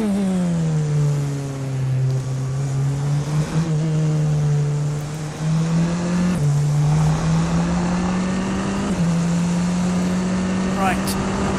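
A Tatuus F3 or F4 racing car engine in the rFactor 2 video game drones steadily, pitch rising and dropping with gear changes, as a lap is driven; a voice talks over it at times.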